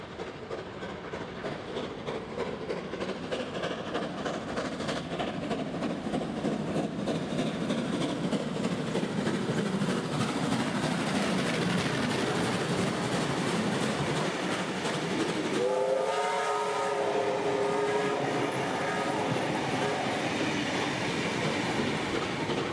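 Train 3526 on the Kiama via North Wollongong service speeds through Loftus Station in New South Wales, a loud close roar of wheels with rhythmic clatter, and a brief horn blast near the end.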